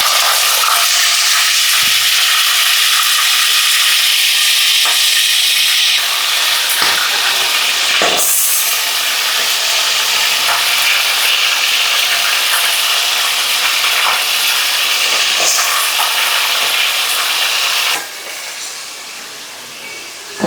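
Chicken frying in hot oil with curry leaves and whole spices, a loud, steady close-up sizzle and hiss with occasional stirring clicks that eases slightly near the end.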